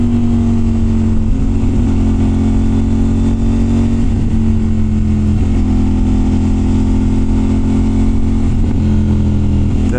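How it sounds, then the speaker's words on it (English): A CFMoto Ibex 800T adventure motorcycle with an SC Project aftermarket exhaust idles loud and close, its deep exhaust note blipping into brief revs every couple of seconds. "The SC Project exhaust sounds really good on it."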